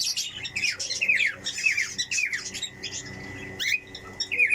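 Pet parakeets squawk and chirp in short, harsh bursts while feeding on okra, close and fairly faint, the calls repeating irregularly over a quiet indoor background.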